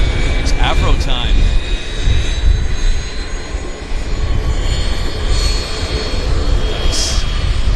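An Avro airliner's engines start up at Vancouver Airport, heard as a loud, steady roar and whine at a distance, with people talking briefly over it.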